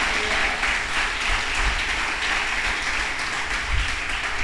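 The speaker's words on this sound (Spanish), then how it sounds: "Denle un aplauso" A church congregation at a Spanish-language worship service applauds steadily, a dense, even wash of many hands clapping throughout with no break.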